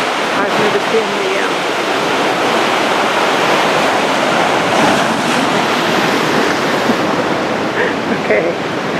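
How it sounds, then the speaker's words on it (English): Storm-driven Atlantic waves crashing on a Puerto Rico beach, a loud, dense and continuous roar of surf with gusting wind noise and no break or pause across the whole stretch. "the waves are coming to get us."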